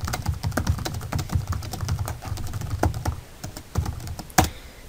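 Rapid, steady typing on a computer keyboard, close and crisp, with irregular clusters of keystrokes and a slightly heavier key press near the end.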